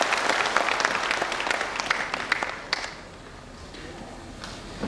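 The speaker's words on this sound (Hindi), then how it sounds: "एक बार ताली होना चाहिए अपने पेरेंट्स के लिए।" Audience applause for parents at a Success Day event in Shillong, dense clapping from many hands that rings out strongly, then thins and fades away toward the end.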